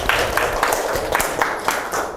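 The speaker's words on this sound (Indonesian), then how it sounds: "Oke, tepuk tangan." Classroom audience clapping after a group presentation on DNS server configuration, a brief scattered round of hand claps with uneven rhythm, moderately close and fading slightly toward the end.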